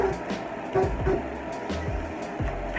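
A T-shirt printing machine runs with a steady mechanical drone, punctuated by repeated low thumps and clunks at an irregular rhythm, fairly close and moderately loud, with no talk.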